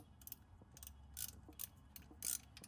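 A socket ratchet tightens 10 mm hose clamps on the intercooler piping of a 2016 Hyundai Veloster Turbo during a Turbo Socks front-mount intercooler install. Several short clicking bursts come close and fairly quiet, separated by brief pauses.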